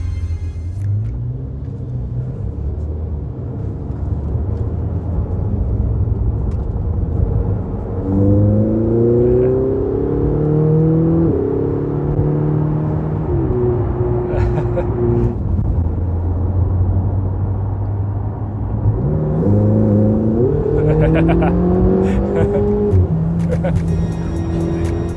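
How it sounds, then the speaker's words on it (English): A Ferrari 488 GTB's turbocharged V8 bellows under light load while driving, heard from the cabin as a steady low rumble that swells into two distinct rising, throaty revs. "you get a lovely bellow from that V8 under light loads"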